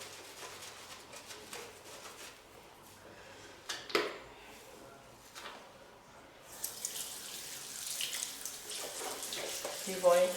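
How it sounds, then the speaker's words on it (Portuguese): A makeup brush rinsed under a running bathroom tap, a steady soft stream of water with light splashes and a few clunks, swelling louder in the second half as the flow hits the brush and sink. "E vou enxaguando o pincel de novo."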